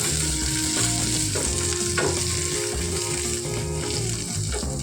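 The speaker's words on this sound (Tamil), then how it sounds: "இப்போ மீதி தக்காளி வெங்காயத்தை இதில் போட்டுக்கலாம்" Tomatoes and onions sizzle and fry steadily in a pan for a prawn thokku gravy, with soft stirring scrapes and no talk.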